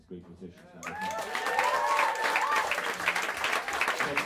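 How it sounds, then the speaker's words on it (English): Live audience applause at Smalls Jazz Club in New York City after a trio set, dense clapping that swells in quickly and holds steady, with cheering voices and a speaker talking over it. "how about a round of applause for these great musicians?"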